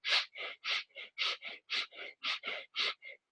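Rapid breath-of-fire breathing exercise, about a dozen forceful, evenly spaced breaths in quick rhythm, close and loud with no talking.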